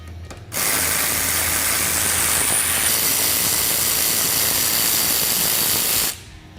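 A ratchet fitted with a 14mm socket drives out the brake caliper bolts on a Honda Talon side-by-side, making one steady, loud, fast clicking run that lasts about five and a half seconds close up.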